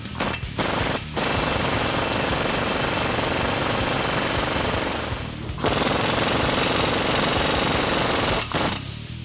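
A loud impact wrench hammers continuously in long bursts, tightening a nut on a stud while installing a leveling kit on a Ford F-150, briefly pausing between runs, close and harsh.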